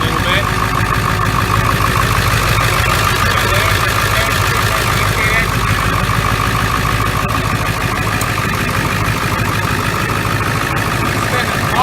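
A Ford Powerstroke diesel truck engine with an aftermarket cold air intake idles with a steady, loud clattering rumble that continues unchanged throughout.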